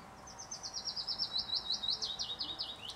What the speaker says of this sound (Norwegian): Den fuglen som dere hører i bakgrunnen.